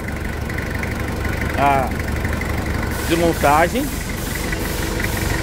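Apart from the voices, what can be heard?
reassembled Toyota SW4 engine running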